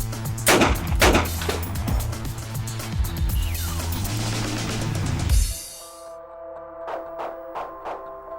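Gunshots at home intruders in a staged self-defense scene: a rapid, loud burst of close shots ringing over several seconds, then stopping abruptly, followed by a few fainter sharp clicks and metallic sounds.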